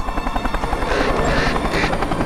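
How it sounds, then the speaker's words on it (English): Helicopter in the video game Alan Wake, a steady loud rotor chop with broad engine roar filling the whole stretch, no speech over it. "And they're going to attack the chopper."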